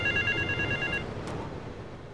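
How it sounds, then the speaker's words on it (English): A telephone rings inside the video game Grand Theft Auto III, an electronic ringing tone heard in one burst of repeated trills that then stops, fairly loud and close with game background noise beneath. "I hear a phone ringing."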